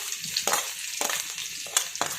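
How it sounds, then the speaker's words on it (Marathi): Finely chopped garlic frying in hot oil over full flame, a close bright sizzle with a few quick stirring strokes, no talking. "तेल तापलं की याच्यामध्ये आपण जे लसणाचे तुकडे केलेत, लसूण बारीक केलेला आहे ना तो याच्यामध्ये अगोदर टाकून घेऊया"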